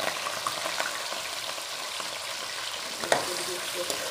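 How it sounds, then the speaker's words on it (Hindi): Half a kilo of chicken sizzles in hot oil for a shallow-fried gosht dish, a steady close crackling hiss with a few sharp spits and one louder pop near the end, no voices. "इसके अंदर मैंने आयल शामिल किया है। हम इसके अंदर डालेंगे चिकन।"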